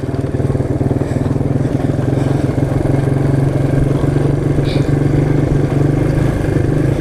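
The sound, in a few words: quad ATV engine revving in a sand pit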